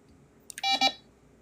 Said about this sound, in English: That's an okay beep.